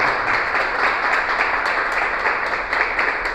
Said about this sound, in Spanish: Si le vas a aplaudir, apláudele